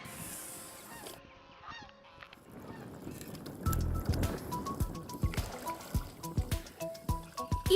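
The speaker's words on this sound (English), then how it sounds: "Each fall, millions of waterfowl like these take flight to the skies" Migrating geese and other waterfowl honk in a loose, overlapping chorus, sparse and quiet at first and then growing busier and louder, with some watery splashing underneath and no voices.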